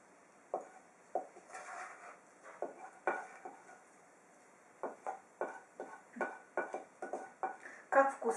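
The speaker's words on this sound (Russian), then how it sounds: "И вот тогда-то мы и перемешаем начинку" Spoon scraping and clinking in a bowl of onion, carrot and mushroom dumpling filling, a series of soft, close stirring knocks and scrapes with pauses, fairly quiet.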